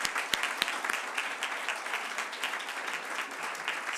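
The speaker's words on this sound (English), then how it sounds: "a hand of applause should go to our colleagues" Attendees at a VIA Rail annual public board meeting give a round of applause, a soft, even patter of many hands clapping in a large room, steady and somewhat distant.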